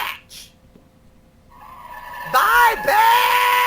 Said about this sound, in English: I love the car sound effects as she pulls away